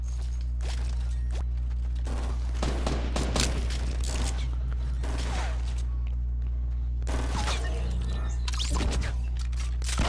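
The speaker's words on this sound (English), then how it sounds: "assault rifle." Assault rifle gunfire in the Fortnite battle royale video game, repeated bursts of shots over a constant low game hum, dense volleys with a short lull midway, no talking.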